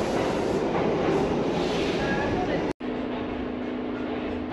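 A New York subway express train heard from on board: a steady, loud rumble and rattle throughout, broken by one very brief drop-out near the middle.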